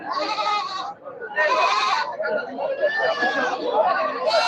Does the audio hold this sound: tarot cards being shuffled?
no